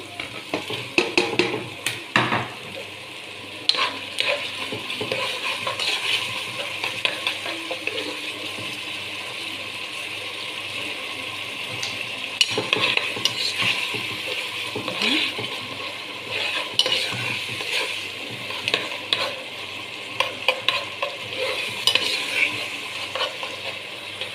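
Tomatoes stirred and frying in a pot, with a steady close sizzle, scraping and clinking of a spoon against the pot, and occasional louder knocks.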